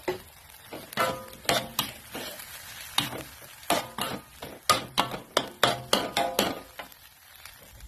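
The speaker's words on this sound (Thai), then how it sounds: "ตามด้วยหมูสามชั้นที่เราต้มแล้ว ลงไปผัด" Boiled pork belly stir-fried in a pan for a Thai coconut curry: a soft sizzle runs under a quick series of sharp scraping and clacking strokes of a utensil against the pan, close and rhythmic.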